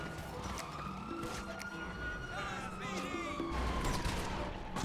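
Police car sirens wail in the video game GTA 5, a rising and falling tone running through the whole stretch amid dense game noise with gunfire-like bursts, fairly loud and continuous.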